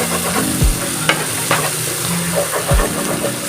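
Crispy chicken fries in a pan and is stirred, making a steady sizzle with scraping stirs and a low background hum. Nobody talks.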